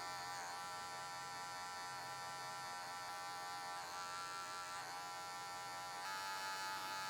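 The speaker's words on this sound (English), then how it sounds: "Closing the clipper now, and I'm just tapping that last little line out there." An electric hair clipper hums and buzzes steadily and faintly throughout, with small shifts in tone as it trims close to the head, and no one talks.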